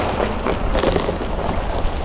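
Wind sweeping through Hanaupah Canyon in Death Valley, a steady, close rush of air with gentle gusts that swell and ease for the whole stretch, with no voices.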